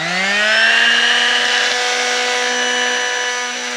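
A power tool trimming a goat's hooves at a vet clinic makes a loud, steady motor whine. It rises briefly at the start and then holds a continuous high hum, with no voices.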